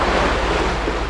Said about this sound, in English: You can see here I'm emptying the lock. Here's the water swirls.